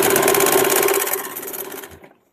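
A sewing machine double-stitching a seam on a blouse, running steadily up close and loud, then slowing and stopping near the end.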